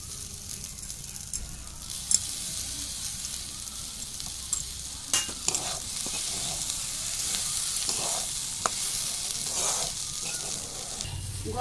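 Masala stir-fried in a pan with garam masala paste gives a steady sizzle, repeated scraping stirs and occasional spoon taps against the pan, close and unaccompanied by speech.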